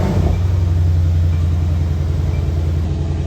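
A Mercedes-Benz C63 S AMG coupe with a 4.0-litre twin-turbo V8 in Sport Plus mode with exhaust valves open, after a cold start: a loud, deep, steady burbling rumble that holds close and even for a few seconds.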